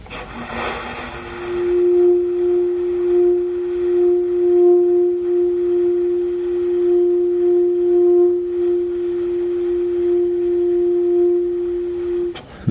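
A soft, airy whisper tone held as a long, steady pitch for about ten seconds, with only slight wavering, the breathy sound of very little air passing through the instrument, heard alone with no talk.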